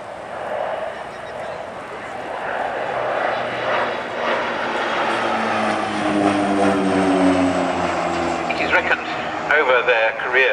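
A propeller aircraft of 750 Squadron, a trainer for observers, flies past at the RNAS Culdrose Airshow in 2010, its loud droning engine building and shifting in pitch as it passes, with a commentator talking throughout.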